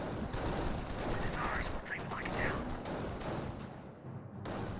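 Gunfire pours onto a Panzer Grenadier squad in a Company of Heroes match, US against Panzer Elite: steady crackling small-arms and machine-gun bursts with scattered thuds, continuous throughout under a commentator's talk.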